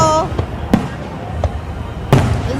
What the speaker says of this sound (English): Look at all those fireworks though.